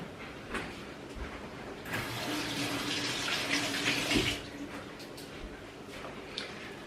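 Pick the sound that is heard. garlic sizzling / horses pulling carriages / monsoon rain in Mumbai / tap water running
tap water running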